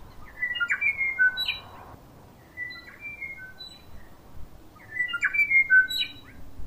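Wild birds calling at Bob's Lookout on New Zealand's South Island: bright, overlapping chirps and whistled notes arrive in two lively bursts, one at the start and one near the end, with quieter scattered calls between them over faint ambient hiss.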